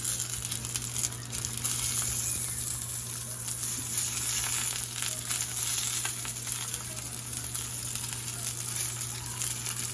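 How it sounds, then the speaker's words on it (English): Beef bulgogi dumplings pan-frying in oil, a steady loud hiss and crackle of sizzling that runs continuously and close up without pause. "Nice little pan fry."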